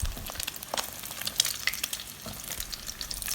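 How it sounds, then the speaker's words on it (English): An egg fries in oil in a pan until crispy, giving a close, continuous crackling sizzle with sharp spattering pops and no voices. "Fry until the egg is crispy, but cook on one side."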